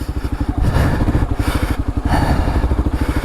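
Kawasaki KLR motorcycle engine lugging at low revs, a loud, close, uneven thumping chug with rapid rhythmic pulses continuing throughout, no voices.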